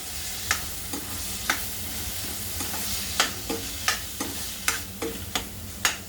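Fresh peas and paneer fry and are stirred in a gravy, giving a continuous soft sizzle punctuated by about ten sharp spoon scrapes and knocks against the pan at an uneven rhythm.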